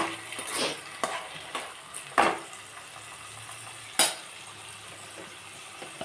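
Steady hiss of spices sizzling in hot oil for an eggplant-tomato curry tempering, with a few sharp clatters and stirring scrapes, close by and fairly loud, no talking.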